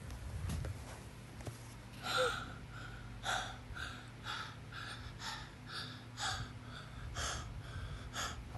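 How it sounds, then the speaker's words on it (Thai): Rapid, heavy gasping breaths after exertion, about once a second, close and steady over a low background hum. "ตอนนี้หายใจแบบรัวมากนะ"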